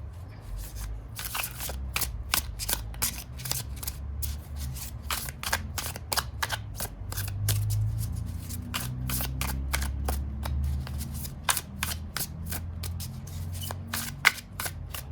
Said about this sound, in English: This deck is really hard to shuffle. It has a rose petal finish.